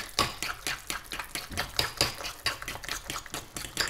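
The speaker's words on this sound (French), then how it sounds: "une fois que vous avez mis tous les morceaux de poivron, on vient mélanger tout ça." Goat cheese dip with chopped bell pepper pieces being stirred and mixed in a bowl, giving repeated soft wet scraping and clinking strokes at a steady rhythm, close and moderately quiet with no talking.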